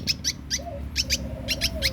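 Rapid high, sharp chirps from a sooty-headed bulbul chick, repeated in quick irregular bursts close by, over a low rumbling background.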